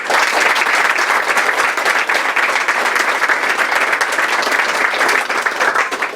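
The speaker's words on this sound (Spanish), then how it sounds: "Regalémosle un aplauso a Santiago apóstol" A church congregation at a veneration of the Apostle Santiago in Colomoncagua gives loud, sustained applause, a thick wash of many hands clapping without pause.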